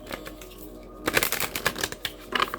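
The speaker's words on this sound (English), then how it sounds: "Let me try to shuffle them up." A deck of cards being shuffled at close range, a quiet pause followed by a dense run of rapid riffling and snapping bursts that continues to the end, with no one talking.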